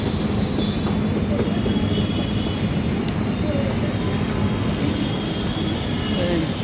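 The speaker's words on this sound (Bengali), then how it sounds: "ट्रेन आ रहा है।" A metro train arrives at an elevated station on the line from AIG Hospital toward Secunderabad, a loud, continuous rumble with wheel noise and faint squeals, and voices can be heard in the background.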